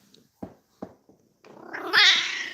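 A house cat makes a few short soft chirps, then a long loud drawn-out meow that rises and fades at close range, no talk.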